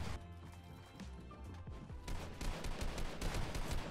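Rapid gunfire bursts from Fortnite Mobile, dense crackling shots stacking up and growing louder in the second half over a busy, noisy game mix.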